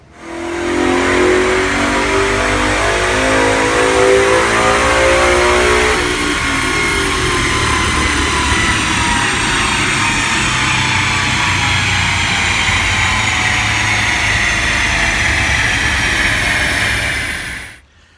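A naturally aspirated Coyote V8 Mustang engine roars close and loud at full throttle on a dyno, climbing steadily through the gears in one long sustained pull before cutting off abruptly.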